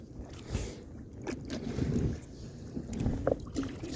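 A paddleboard paddle dips and pulls through calm water in a ria in Galicia, giving soft, irregular splashes and swishes, with light wind rumbling on the microphone.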